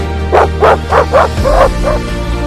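Cartoon dog barking in a quick run of about six bright yips, loud and close, evenly spaced and tapering off with a softer final bark.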